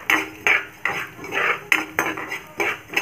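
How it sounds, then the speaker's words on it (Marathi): Coriander seeds roasting in oil in a kadhai give off a faint crackle beneath repeated metal scraping and clinks of a spatula, the strokes coming in an uneven rhythm. "आता मी तेल घेतलं आहे कढईमध्ये, तेलामध्ये ही धने घेतले आहे, ते छान मी परतून घेणार आहे।"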